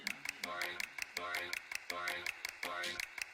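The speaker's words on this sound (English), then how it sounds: "The claps, the claps." Rhythmic clapping in a K-pop track, crisp repeated claps in a steady pattern over a pulsing musical beat, with a voice talking over the music.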